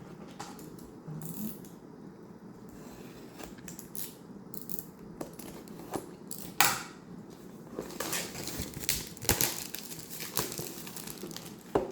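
Quiet, close crinkling and rustling of plastic wrap being pulled off an electric toothbrush box in short, uneven bursts.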